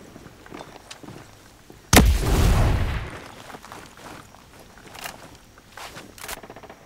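A grenade blows up in Ghost Recon Breakpoint during a PvP match: one sharp, loud blast followed by about a second of rumbling debris, then quieter footsteps and scattered gunfire in the background.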